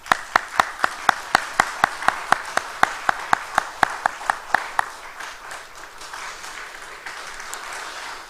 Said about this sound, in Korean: 우리 박수로 우리 그동안의 수고에 감사하다고 표해 주시면 고맙겠습니다